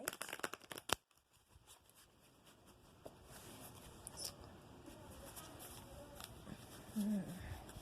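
A Tarot of the Night deck being shuffled by hand, soft rapid riffling and sliding of cards in a few bursts, close but quiet, with a voice speaking faintly in the background.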